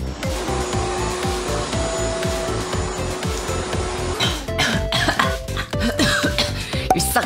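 Slurping of noodles being sucked up in quick, repeated pulls, close and fairly loud, with a rougher burst of sucking toward the end.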